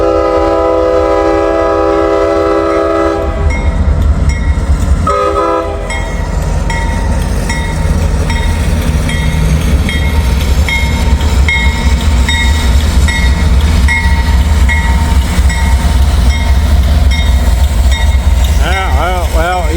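A freight train led by an SD70 Ace locomotive, with a long horn blast at the start, then the continuous rumble and clatter of the passing cars, close and loud throughout.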